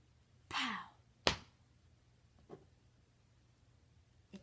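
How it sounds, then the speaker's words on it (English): A single crisp finger snap cracks during a close-up magic coin trick with nickels, coming after a soft breathy hand sound and followed by a few faint taps in an otherwise quiet room. "snap my fingers, pow"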